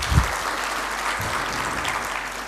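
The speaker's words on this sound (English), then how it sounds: "May I please request that you please give these companies a round of applause." A conference audience at the 25th African Reinsurance Forum gives a round of applause for reinsurance companies, steady dense clapping filling the hall from start to finish with a brief low thump near the beginning.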